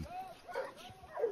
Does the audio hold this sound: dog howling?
yes